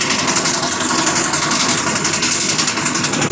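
Vintage engines running together at an outdoor vintage show in Lanlivery, Cornwall, giving a loud, steady idling rumble with a fast, even pulse and broad mechanical clatter throughout.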